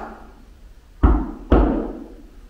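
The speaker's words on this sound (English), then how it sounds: "What about a knock?" Two sharp knocks about half a second apart, loud and close, with a short decay after each in a quiet hotel room.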